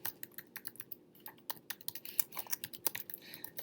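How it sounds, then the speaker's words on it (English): Rapid keystrokes clatter on a computer keyboard as an email address is entered, a dense, close run of crisp clicks with short irregular gaps and no voice. "type in the full email address of your co-teacher"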